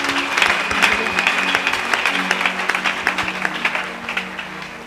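Church congregation applauding at a service, a dense burst of clapping heard up close that carries steadily before easing off toward the end, with no speech over it.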